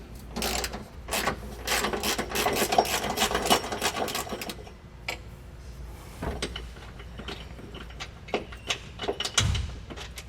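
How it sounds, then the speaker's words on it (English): A 13mm socket on a ratchet loosens and removes a bolt on a truck suspension, giving quick bursts of close metallic clicking with short pauses between them and a few clunks near the end. "Take a 13mm socket to loosen and remove this bolt."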